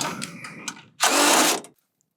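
A single bolt being undone on a Munckhof one-way gravity gate during installation, heard as a brief, loud burst of ratcheting or power-driver whir after some quieter mechanical handling, then silence.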